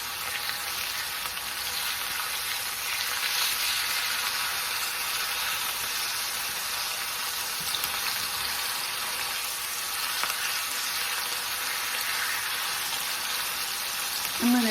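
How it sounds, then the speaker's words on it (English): Chicken sears in a hot pan with a steady, fairly quiet sizzle and crackle lasting throughout, with faint clinks near the end. "So while we're letting this sear, now we're not cooking it all the way, we're just letting it sear"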